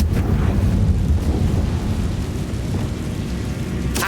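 In Hogwarts Legacy, the Confringo explosion spell bursts with a deep, rumbling roar that lingers loud and low throughout, with a brief crackle at the end.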